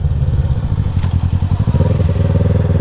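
A 650 cc motorcycle engine runs while being ridden, with a loud, close, steady low rumbling throb and pulsing exhaust beats that shift slightly in pitch partway through.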